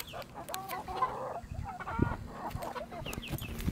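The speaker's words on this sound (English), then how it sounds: "Chickens?" Several chickens cluck and chatter nearby, overlapping bursts of clucks and short squawks in an irregular rhythm, with no talking.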